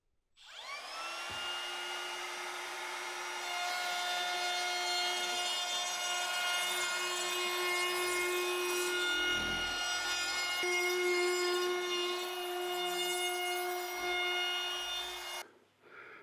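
A power tool rounds the corners of a wooden side table with a loud, sustained high whine and gritty cutting rasp, running for about fifteen seconds and dipping slightly partway before spinning down, with no one talking.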